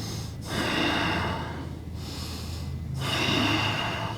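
Heavy, forceful breaths during a forearm plank in a mixed martial yoga workout: three long, loud, close exhale-inhale cycles with short pauses between, without any talking.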